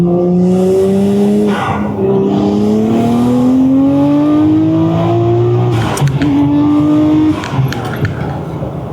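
A loud, close Nissan Skyline R34 engine revs hard to 7,500 RPM, its pitch climbing steadily before dropping off and winding up again.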